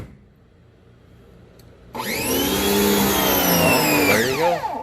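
A cheap 75-dollar electric pressure washer switches on after a quiet start and runs with a loud, steady motor whine and spray hiss, the pitch sagging slightly near the end.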